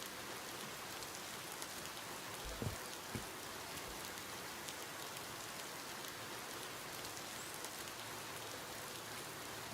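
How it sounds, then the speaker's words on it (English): Rain falls steadily in the video game Alaska Gold Fever, a soft, even hiss of drops with a couple of faint thuds, quiet and continuous with no speech. "Do I hear rain? Is it raining?"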